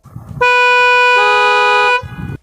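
Two-stage horn of a Like 318 250T scooter sounds one steady, bright electronic tone that jumps to a louder, fuller blast halfway through, cutting off after about a second and a half over faint road noise.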